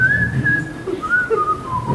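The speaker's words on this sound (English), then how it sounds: "I finally had to just whistle, because I couldn't sing" A man whistles a short wavering melody, clear and close, with a few sliding notes over faint background murmur.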